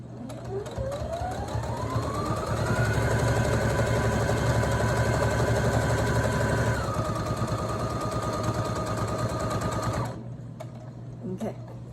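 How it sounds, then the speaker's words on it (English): A sewing machine stitches steadily through placemat fabric, a loud, fast mechanical whir that speeds up, holds, shifts pitch as it reverses into a back stitch, then stops abruptly, followed by a couple of faint clicks. "we're gonna go ahead and sew and then back stitch."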